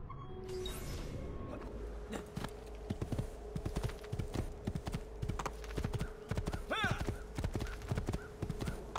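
A horse gallops in Assassin's Creed 2, with rapid rhythmic clip-clop hoofbeats running steadily throughout and a brief whinny near the end, over a low game hum.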